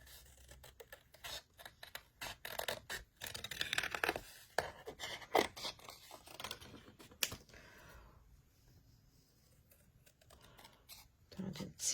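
Small scissors snip around a paper bookmark in short, crisp bursts of cuts, close up, mixed with paper rustling and intermittent talk.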